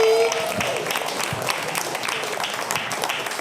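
A live comedy audience applauds comedian Geoff Alderman, a steady wash of clapping and crowd noise that holds at an even level throughout.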